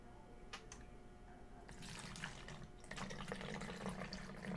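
Windshield washer fluid poured through a small funnel into a 250 ml bottle, a soft trickling splash that grows fuller and louder partway through, with light gurgles.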